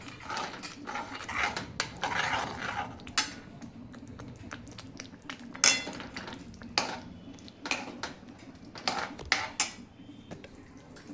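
A metal spoon stirs finely chopped tomatoes in a pan while making shev bhaji, producing repeated clinks and scrapes against the pan in an irregular rhythm, up close, with no voices.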